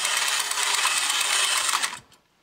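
A vintage Mighty 8 toy robot powered by two D cells walks with a buzzing, whirring gear motor, loud and close, then stops abruptly near the end.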